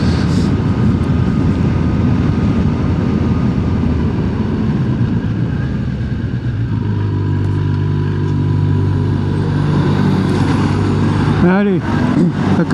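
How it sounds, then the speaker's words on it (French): Heavy engine rumble from trucks passing on a road persists throughout, with a vehicle droning louder in the second half and a brief squeal near the end. "les camions sur la route."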